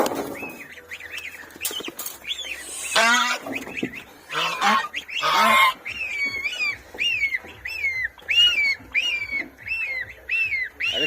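Geese honk repeatedly and loudly, a noisy flock calling close by in bursts, with some squawking and fluttering early on.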